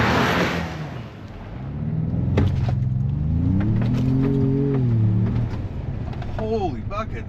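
A Ford Bronco Sport launching hard in sport mode, its engine note swelling and climbing in pitch as the vehicle pulls away, heard loud and close from inside the cabin over steady road rumble.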